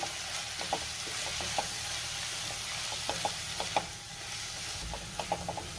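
Eggs with powdered spice masala sizzle in a pan while a spoon stirs and scrapes, producing quiet frying hiss broken by irregular light knocks and clinks.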